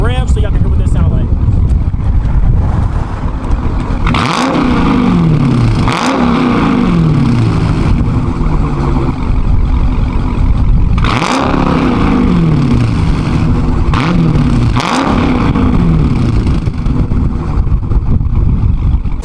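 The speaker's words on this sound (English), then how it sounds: "So I'm gonna give y'all some revs so y'all can hear what this sound like." A Dodge Scat Pack with straight-pipe exhaust, resonators and mids removed, idles with a loud rumbling burble and rips through several sharp revs, each blip rising then falling away, close by.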